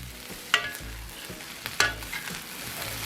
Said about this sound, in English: Looking good, looking like fried rice should.